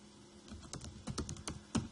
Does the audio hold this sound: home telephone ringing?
no